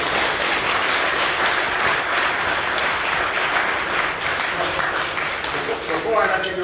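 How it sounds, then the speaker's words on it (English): An audience breaks into a sustained round of applause, a dense, even wash of clapping from a full room that carries steadily throughout and tapers only slightly near the end. "So he raised a real round of applause for all that great work."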